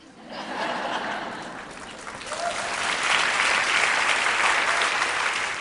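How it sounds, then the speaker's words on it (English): Audience applause at a TEDx talk swells into a full, sustained round of clapping, with a few chuckles mixed in, steady and fairly loud throughout. "I wish that didn't get an applause."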